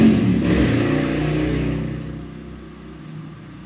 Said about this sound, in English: Every time a motorcycle comes by, it's a big rev right in front of my house, always.